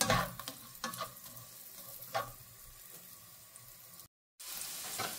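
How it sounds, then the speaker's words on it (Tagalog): Onion frying in a pot for chicken vegetable soup sizzles softly, with a few sharp stirring knocks near the start. A brief dropout of silence breaks it near the end. "Ilagay natin ang ating onion. Hayaan natin siyang maluto hanggang sa mag-translucent o a little bit brownish yung color niya."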